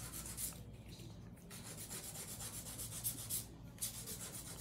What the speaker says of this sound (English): So now I'm gonna do a little bit of hand filing.